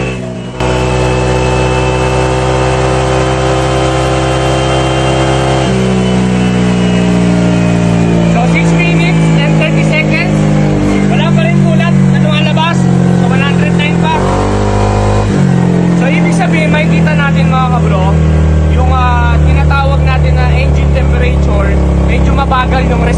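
A car engine with no coolant in its dry block runs steadily and loud, a sustained droning hum that shifts in pitch partway through, with talk heard over it.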